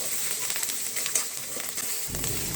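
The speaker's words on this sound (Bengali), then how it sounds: "এটাকে ফ্রাই করতে থাকবো যতক্ষণ এটার কাঁচা গন্ধ না গেছে" Garlic and ginger paste frying in a pan, a steady close hiss and sizzle with small crackles throughout and no talking.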